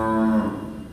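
A single long, loud moo from a cow at an urban cow shelter in Delhi, a sustained tonal call that fades off near the end, heard alone.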